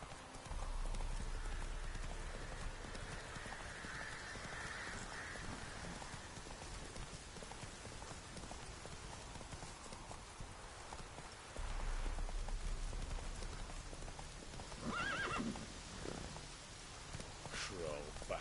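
Horse hooves clip-clop steadily in The Witcher video game, close and continuous over a rain-like patter and a low rumble, with a few brighter accents toward the end.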